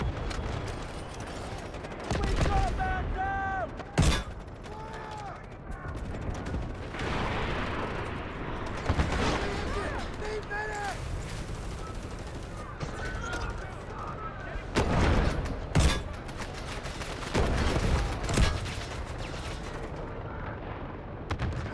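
Delta Force combat with 7.62 machine gun fire mixed among heavier booms, bursts arriving in scattered clusters over a busy battlefield, loud and near, while voices talk intermittently throughout.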